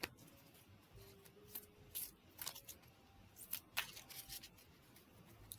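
A deck of playing cards is shuffled repeatedly, giving faint crisp riffles and soft flutters in an otherwise quiet room, with no voices.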